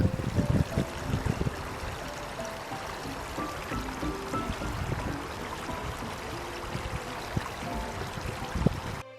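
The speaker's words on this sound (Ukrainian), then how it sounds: "Послухайте, як звучить струмок." Water babbles and trickles steadily in a small stream, soft and continuous, with occasional gurgles and splashes.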